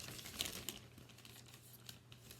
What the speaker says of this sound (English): so just cut into the bag